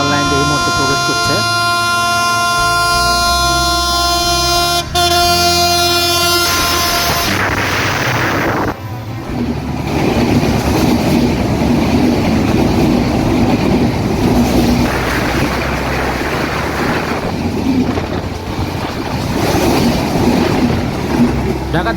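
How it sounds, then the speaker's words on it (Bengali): The 791 Up Banalata Express, running from Dhaka to Chapainawabganj, enters Azimnagar railway station on line 2. A loud, sustained horn gives way to a close, heavy rumble and clatter of passing carriages. "ঢাকা থেকে ছেড়ে আসা চাঁপাইনবাবগঞ্জগামী 791 up Banalata express Azimnagar railway স্টেশনের 2 নম্বর লাইন দিয়ে এই মুহূর্তে প্রবেশ করছে।"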